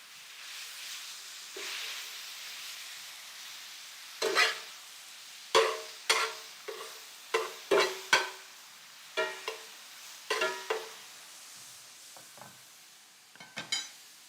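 Cheesesteak filling sizzles quietly in a pan under a soft, steady hiss, broken by a series of sharp scraping and stirring knocks.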